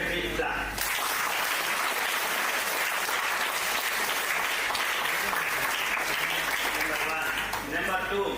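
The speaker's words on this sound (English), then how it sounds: "Please give a big clap." Audience at a youth parliament event in Hanumakonda breaks into sustained clapping that rises quickly and continues steadily for several seconds, dense and fairly distant, with a voice faintly heard at the start.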